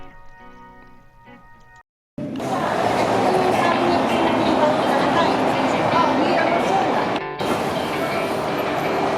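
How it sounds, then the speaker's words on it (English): A Trenitalia Frecciarossa high-speed train runs with a loud, steady rushing roar inside the carriage after a short quieter stretch with voices, holding constant to the end. "It took us roughly 2 hours to get here from Florence on board the Trenitalia train called the Frecciarossa."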